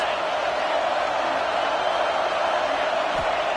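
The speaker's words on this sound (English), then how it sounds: "Big 3rd down as the crowd gets behind this defense." A football stadium crowd roars for the home defense on a big third down, a dense, constant wall of cheering that stays loud and even throughout.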